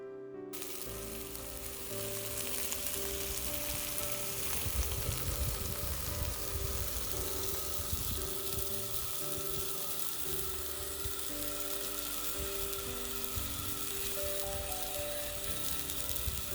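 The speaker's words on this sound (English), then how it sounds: "I'm gonna have to pan fry them" Food pan-fries at a campsite in Wallowa-Whitman National Forest near Hells Canyon, with a steady, even sizzle like light rain running the whole time over a low background hum.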